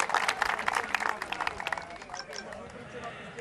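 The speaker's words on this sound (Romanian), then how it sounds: "Haideți aplauze, mai cu viață vă rugăm" A crowd at a football championship award ceremony in a stadium gives brisk clapping that thins and fades after about two seconds. Voices can be heard throughout.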